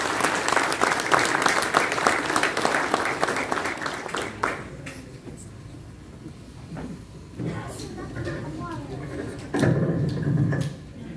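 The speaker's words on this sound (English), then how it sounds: "Can I get a round of applause?" Audience applause fills a community center hall at an interfaith iftar dinner, loud at first and then fading after about four seconds into quieter room noise and scattered sounds.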